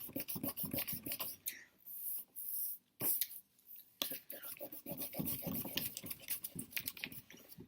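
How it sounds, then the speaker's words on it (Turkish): Close rubbing of an eraser over pencil writing on paper during a birthday cake drawing, heard as rapid raspy back-and-forth strokes in bursts with short pauses, quiet and without talking. "kurşun kalemle yazdıklarımızı siliyoruz"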